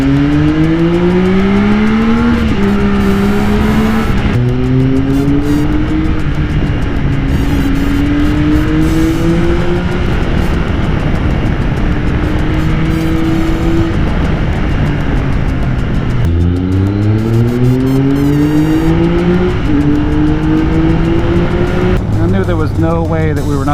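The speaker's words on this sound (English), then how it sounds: "if you don't love the buttery smoothness of a Triumph inline 3-cylinder" Triumph 1200cc inline three-cylinder motorcycle engine revving loud and close, pitch climbing and dropping through repeated gear-like sweeps with a steady roaring drone throughout.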